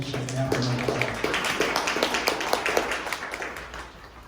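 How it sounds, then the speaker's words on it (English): Scattered clapping from a small audience at a business lunch talk, individual claps audible as distinct taps that thin out and fade, with a voice briefly heard at the start. "give them a round of applause for that and also Venture Center"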